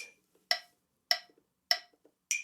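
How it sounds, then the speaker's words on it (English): A metronome ticks in a steady, even rhythm, four crisp clicks of equal loudness against silence, close and clear. "So quite often metronomes will sound like this."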